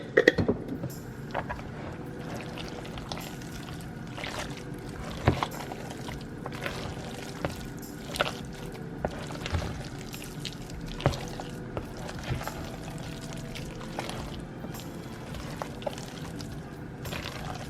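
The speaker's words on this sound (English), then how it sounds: "I add a little bit of my pickle juice in." Pickle juice is poured into a bowl of potato salad, a faint, brief trickle and drip set among small clicks and kitchen noise.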